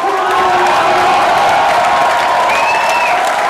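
A large audience at a political rally applauds loudly and continuously, dense clapping with cheers and a few whistles filling the space throughout.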